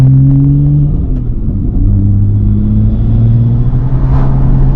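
A built BMW B58 340i inline-six with a manual gearbox, AWD and a 3.5-inch straight-pipe single-exit exhaust, droning loud and close as the revs climb and shift, a continuous heavy roar from start to finish.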